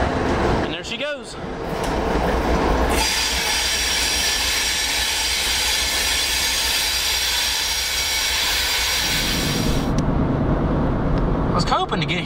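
Train carrying US military equipment rolls past close by, a steady loud rumble and clatter of railcars with wheel noise for several seconds, then fading, with voices talking.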